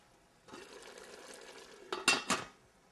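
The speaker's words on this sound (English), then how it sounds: "So we'll stir that up." Rosemary is stirred in a cooking pot, giving brief scraping and clinking of a utensil against the pot with a faint sizzle, ending in a few sharp knocks, close by and alone.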